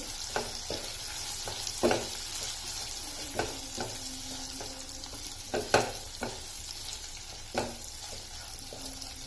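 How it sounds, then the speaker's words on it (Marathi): Green chillies fry in a pan for dahi mirchi, a soft steady sizzle broken by intermittent scrapes and knocks of a spoon stirring them. "मिरच्या आता थोड्या वेळ फ्राय करून घ्यायच्या"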